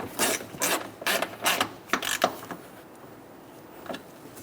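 A ratchet tightens a distributor bolt on a 1999-2006 Chevrolet Silverado 1500 with a 4.3L V6: several quick rasping clicks in short bursts, close and clear, then a pause and one last faint click.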